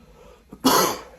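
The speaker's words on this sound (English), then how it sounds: "now I'm just congested, have a little bit of a cough" A congested person gives a single short, harsh cough after a faint throat sound, close and alone.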